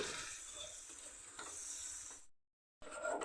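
Flat beans cooking in a mustard sauce sizzle and hiss in a pan after a little water is added, with stirring noises on top. The sound is close and moderate, drops out briefly, then returns.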